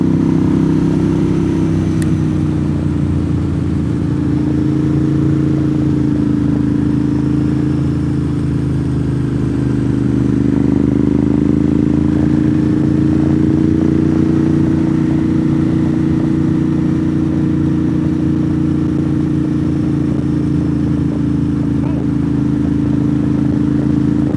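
Gray Ducati Monster 1100 on fresh tires after an oil change, ridden along a North Georgia mountain road; a steady low engine drone with a gently shifting pitch runs throughout, loud and close, under constant wind rush.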